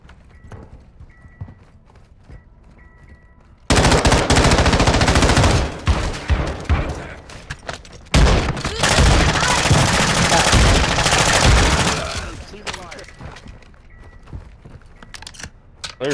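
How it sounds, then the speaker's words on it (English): Bursts of automatic gunfire in Call of Duty MW2 DMZ break out suddenly after a quiet start and keep rattling loud and close for several seconds. A brief lull follows before another sustained stretch, then everything drops back to low background. "You are taking effective fire."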